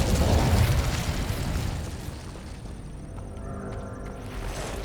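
An Incendio fire spell in Hogwarts Legacy bursts out with a loud roaring whoosh, then settles into a crackling, hissing rumble that fades gradually over a few seconds.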